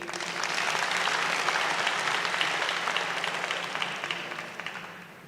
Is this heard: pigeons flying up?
no